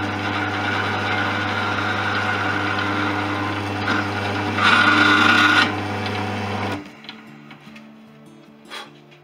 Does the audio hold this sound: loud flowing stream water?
no